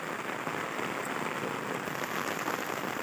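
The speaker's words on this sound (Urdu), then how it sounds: "اور آج اس میں شدید بارش" Heavy rain pours down steadily over a green village beside a forest, a dense, constant hiss of drops on surfaces filling the whole stretch with no voices.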